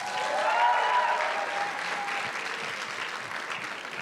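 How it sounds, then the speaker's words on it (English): An audience at a schools challenge award ceremony gives a round of applause, a dense and loud wash of clapping that holds steady and then eases slightly over several seconds. "I think the governor deserves another round of applause"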